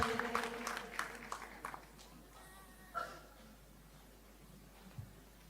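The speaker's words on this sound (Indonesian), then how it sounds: "Kasih tepuk tangan lagi yang luar biasa buat Ibu Nini" A church congregation applauds for Ibu Nini during a Sunday service, a burst of clapping that is strongest at first and then thins out and fades into the room's background.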